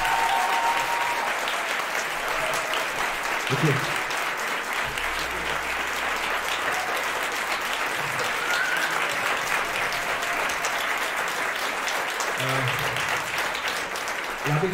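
An audience applauds a commentator at a talk event, sustained dense clapping filling the room for many seconds, with a brief spoken thanks over it.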